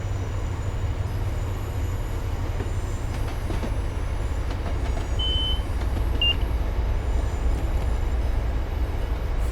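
An MBTA HSP46 diesel locomotive in Train Sim World rumbles with a steady low engine drone and rolling wheel noise, with a couple of short high beeps partway through.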